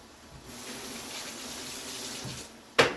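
Tap water runs steadily into a kitchen sink to rinse freshly cooked noodles for homemade hamburger helper, a constant close gush lasting a few seconds that ends with a sharp clatter.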